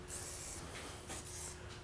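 Lubricant is sprayed in two short hissing bursts onto the adjustment points of an antique glass press, close by, over a steady low mechanical hum.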